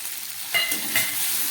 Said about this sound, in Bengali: এবার দিয়ে দিচ্ছি 1 চামচ মতো গুঁড়ো জিরে